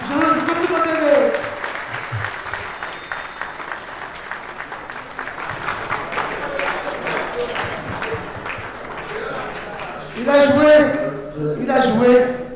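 Audience applause at a Mic Mac Show for a musician, a steady wash of clapping that swells loudly near the end, with voices and cheers mixed in.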